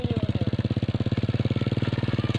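A motorcycle engine idles close by with a steady, rapid low putter that holds a regular pulsing rhythm throughout, with no talk over it.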